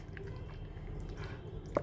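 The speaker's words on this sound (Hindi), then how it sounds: "अब हम इसको मिक्स कर देंगे, सारी चीज़ें मिक्स कर देंगे एक साथ" Yogurt being stirred into a meat marinade for Lucknow-style galawati kebabs, giving faint, soft wet squishes and a brief drip near the end, heard close and alone.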